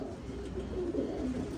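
Pigeons kept by a breeder in Rampur coo softly and close by, a low throaty burble rising and falling over about a second and a half, with no other sounds.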